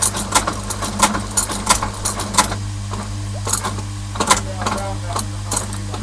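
Sewing machine stitching a Vibram sole onto a rebuilt Barbour Deckham boot: loud, close bursts of rapid mechanical clatter in short runs, broken by brief pauses, over a steady low motor hum.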